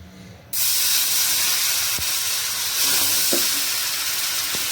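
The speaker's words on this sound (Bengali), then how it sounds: "তাওয়া আমার একদম গরম হয়ে গেছে। এবার আমি এই ব্যাটারটাকে এর মধ্যে দিয়ে দিচ্ছি।" Hariyali uttapam batter hits a very hot tawa with a sudden, loud, continuous sizzle that starts sharply and holds steady, with a few faint clinks of utensils underneath.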